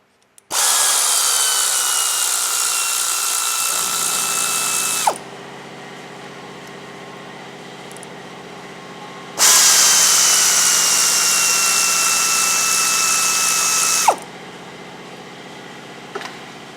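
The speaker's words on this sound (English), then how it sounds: "Next, I'm just going to undo these bolts that are here." A ratchet spins off 15mm sump bolts on a Chevrolet Cruze, with two long, loud, steady runs of fast clicking separated by a quieter pause with a faint hum.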